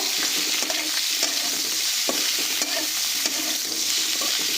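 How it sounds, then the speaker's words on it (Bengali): Chopped radish and bottle gourd are stir-fried in a pan, a steady close sizzle broken by repeated scraping strokes of a spatula at an irregular rhythm, with no talking. "এই মূলো আর লাউটাকে একটু খুব ভালো করে আমরা ভাজা করে নেব।"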